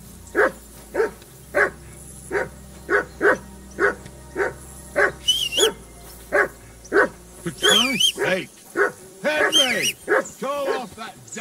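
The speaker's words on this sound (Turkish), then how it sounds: "Köpeği de çağıralım. Bağırıp durmasın." A dog in Kingdom Come: Deliverance II barks repeatedly in a steady rhythm of about one bark per second, close and clear, later mixing with whining yips and excited vocal sounds.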